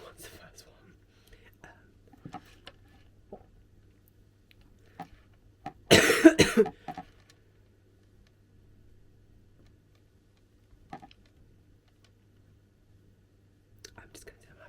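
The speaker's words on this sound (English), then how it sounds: "I'm really apologetic about my cough." A single short burst of coughing, fairly close, in an otherwise quiet room with faint background hum and small scattered noises.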